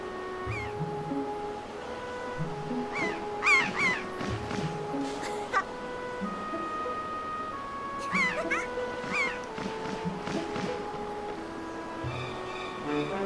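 A bird caws and squawks in The Legend of Zelda: The Wind Waker HD, with short harsh calls in two bursts over soft game music.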